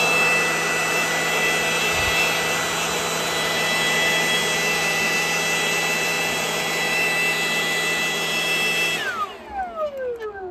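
Milwaukee M18 FBL-0 cordless leaf blower running at its slower speed: a steady, close whirring motor whine with airy rush that holds level, then winds down near the end as it switches off.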